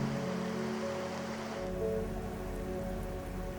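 Steady rain falls on a cold day in Patagonia, a dense, even hiss of drops striking surfaces close by, holding continuous and unbroken with no voices.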